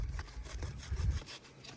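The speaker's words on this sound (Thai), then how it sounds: "ทีมงานผมก็จะเลื่อยให้ดูอย่างนี้เลื่อยให้ดูนะครับ" A hand saw rasps through wood in quick back-and-forth strokes, close and fairly quiet, with a steady rhythmic scraping.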